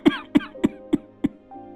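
An old man's cough in a wintry cartoon household scene, five loud, close, regularly spaced hacking coughs, ending in a brief strained voiced breath.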